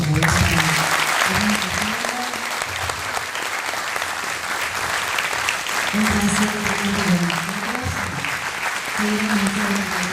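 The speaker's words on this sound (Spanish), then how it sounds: "Un fuerte aplauso." Sustained audience applause at the close of a talk by a Malvinas war veteran, dense and steady throughout, with some voices and crowd murmur mixed in.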